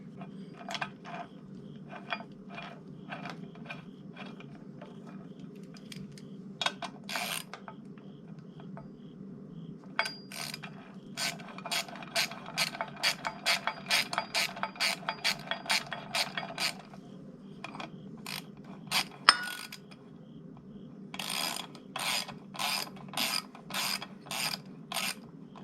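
A hand ratchet snugs up a 15mm bolt on a custom serpentine belt system for a Cadillac 472 engine, giving rapid bursts of close, crisp clicking, some long steady runs and some short strokes, over a low background hum.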